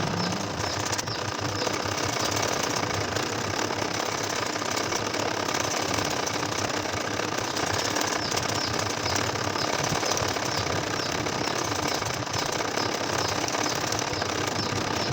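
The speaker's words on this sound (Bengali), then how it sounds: "ফিটটা উঁচু করে ঘুরিয়ে ঘুরিয়ে আমি সেলাই করতেছি" A home sewing machine stitching a nakshi kantha quilt with the foot raised, a continuous, steady mechanical whir and rapid needle clatter, close and even throughout with no talking.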